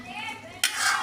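Coconut milk fish stew with tulingan fish, cooking over a wood fire, is stirred in a pot, giving a soft, close bubbling simmer that bursts into a brighter, louder sizzle and scrape partway through.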